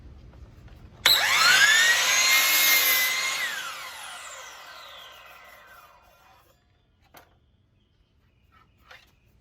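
Wooden French cleats for shop cabinets being cut with a power saw: one loud, sharp cut starting abruptly, its whine falling in pitch as the blade spins down over several seconds. A few faint knocks follow.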